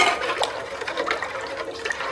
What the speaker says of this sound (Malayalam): ഇനി നമുക്ക് ഇതിൻ്റെ അകത്തോട്ട് കുറച്ച് വെള്ളം ഒഴിക്കാം.